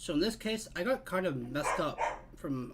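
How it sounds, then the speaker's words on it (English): A young pet puppy gives a few yips and barks, mostly buried under continuous close-up talk from a person. "sorry about my dog. She's just a puppy"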